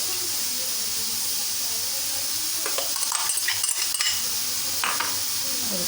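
A thick spinach paste is stirred into meat frying in a pan for palak gosht. A constant sizzling hiss runs throughout, with a few clinking, scraping stirring strokes near the middle.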